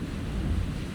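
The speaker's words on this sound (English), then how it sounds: "It's kind of windy, like, to the side and that" Gusty wind on a hilltop pike near the England-Scotland border, a close, heavy low rumble of wind hitting the microphone with uneven surges and no voices.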